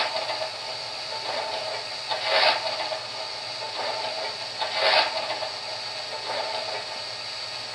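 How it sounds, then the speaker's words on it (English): Coal shoveling effect from the sound system of an MTH model steam locomotive, a custom-painted C&FW RR #8 Hooterville Cannonball: several scraping shovel bursts, two stronger, recur over a steady, fairly loud steam hiss. "Grab a shovel and spread out that coal."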